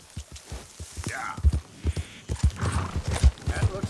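Horse hooves clip-clop in a steady walking rhythm in the video game Red Dead Redemption 2. The close, hollow thuds repeat throughout while someone speaks over them.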